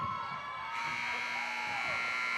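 Game-ending buzzer at a boys high school basketball game between Bishop Connolly and West Bridgewater: a steady electronic tone starts about a third of the way in and holds to the end over gym crowd noise.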